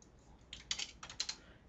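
Quiet bursts of keystrokes on a computer keyboard as a web address is typed, a short run of clicks clustered in two or three quick groups.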